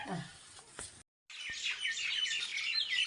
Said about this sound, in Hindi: चिड़ियाएँ हमारे दालचीनी के पौधे में अपने घोंसले में आ रही है